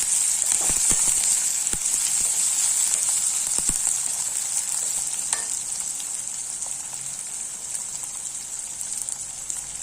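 Onion with a single tomato sautéing in a pan for a tiffin-box meal, a steady bright sizzle with scattered pops and stirring clicks, heard close with no talking.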